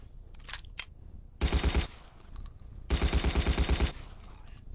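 Automatic assault gun fire in the World War II shooter game Battlefield 1942, on a Berlin map: two sustained bursts of rapid, loud shots, the second longer, separated by quieter battle ambience and a few distant pops.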